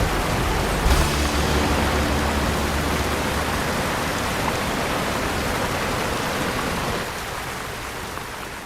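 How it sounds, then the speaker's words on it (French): A mountain torrent rushing beside a hiking trail near Vieux Chaillol, a loud, constant broadband roar of fast water heard close by, steady throughout and easing slightly near the end, with no voices. "nous suivons le torrent et nous rafraîchissons régulièrement"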